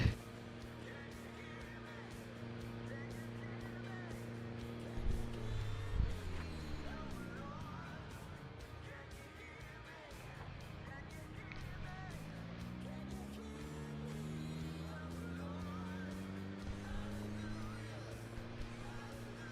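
A truck driven off down the road in Project Zomboid, its engine hum rising and falling in pitch as it accelerates away, fades, then returns with another rising engine tone, steady and moderately loud throughout.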